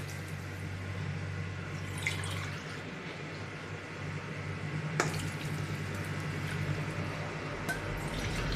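Coconut milk poured into rice for a butter bean pulao, a steady continuous liquid splashing and trickling, close and even throughout with no talk.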